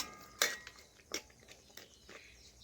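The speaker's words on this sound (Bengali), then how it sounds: "এই চিনিটা এখন ভালোভাবে নাড়াচাড়া করে পটল কুমড়ো আলুর সাথে আমি মিশিয়ে নিচ্ছি" Spoon stirring sugar into a pointed gourd, pumpkin and potato curry in a pan, with a few distinct metallic clinks and scrapes spaced out over a couple of seconds, close and moderately loud.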